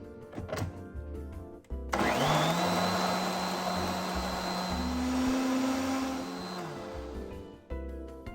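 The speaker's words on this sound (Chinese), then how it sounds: "放入搅拌器搅细" A kitchen blender grinds rojak sauce ingredients: after some brief clatter, the motor kicks in loud and close, holding a strong whining roar for several seconds before cutting off.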